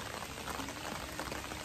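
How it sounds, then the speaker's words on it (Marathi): Steady rain falls in the hills, drumming on an umbrella held overhead; a dense, even patter and hiss continues without a break, close and constant, with no voices. "तर मंडळी पाऊस इलो"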